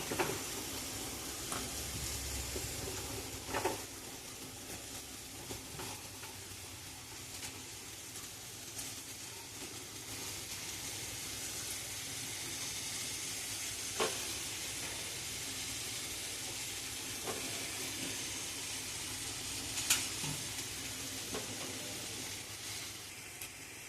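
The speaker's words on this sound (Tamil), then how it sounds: "இந்த ஸ்டேஜில் வெங்காயம் தக்காளி ஃப்ரை ஆகிடுச்சு. நம்ம காய்கறி ஆட் பண்ணிக்கலாம்." Faint steady frying hiss from onion, tomato and vegetables cooking in a pan, with occasional soft clicks and utensil taps and no talk.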